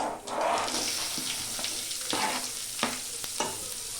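Mustard seeds, cumin, dried red chillies and onion fry in hot oil for a banana flower stir-fry, giving a steady close sizzle with scattered crackles and a few spoon scrapes, no voices.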